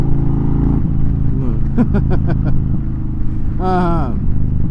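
A car engine drones and accelerates on a road trip, a loud close cabin rumble that builds with rising revs, while a voice speaks over it.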